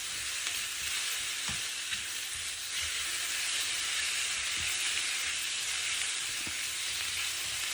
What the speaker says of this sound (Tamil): நாங்கள் அவிச்சு எடுத்து வச்சுக்க இந்த ஒக்டோபர்ஸையும் இதுக்கு சேர்த்துக்கொள்வோம்.